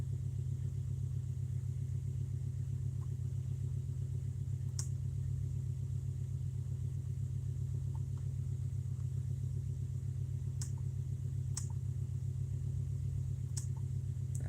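A car engine idles steadily with a low, even rumble that holds throughout, joined now and then by faint clicks and ticks, with no talking.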